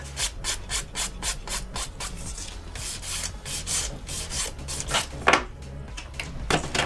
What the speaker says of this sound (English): with a 180 grit file, just go in and make sure it's all smooth